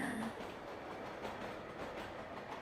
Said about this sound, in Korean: 안내방송이 종료됨과 동시에 지하철이 도착했습니다.